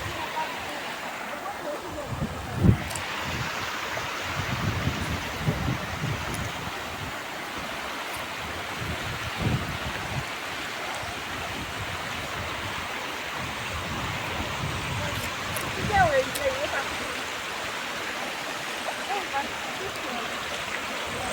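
Steady broadband rush of a rocky river flowing nearby, continuous and moderately loud, with a few brief knocks and a faint voice over it.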